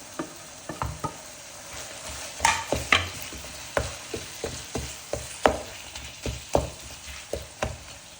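Chopped onion going into hot oil with chicken keema, heard as a continuous sizzle under a steady run of stirring scrapes and clicks that pulse about once or twice a second.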